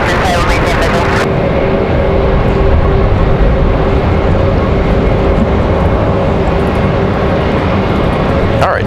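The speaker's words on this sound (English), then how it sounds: "Alright, so that United MAX 8 off to Washington Dulles." United Boeing 737 MAX 8 jet taking off at Raleigh-Durham airport on a windy day, a loud, steady engine roar lasting the whole clip with wind noise mixed in.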